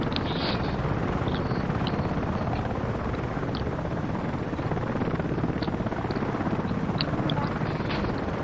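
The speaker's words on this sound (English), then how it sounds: "I'm in a helicopter." A helicopter in the shooter game Battlefield gives off a steady, dense rotor and engine roar that fills the whole span without a break. Faint scattered gunfire or clicks sit inside the noise, and no voices are heard.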